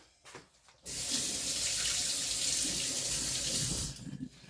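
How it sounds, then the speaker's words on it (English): Tap water runs steadily into a kitchen sink as a spoon is rinsed under it, a close, loud gushing stream that starts abruptly after a few light clinks and cuts off near the end. "Let me rinse my spoon off here."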